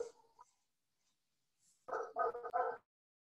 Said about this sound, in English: don't worry about the barking